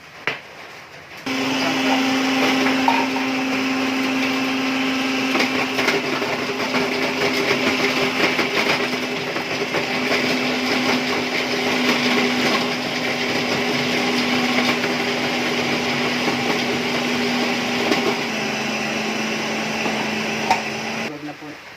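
An electric chopper grinds vegetables for lumpia filling, running as a loud, steady motor whine with a constant hum and churning texture for about twenty seconds, starting abruptly and dipping slightly near the end.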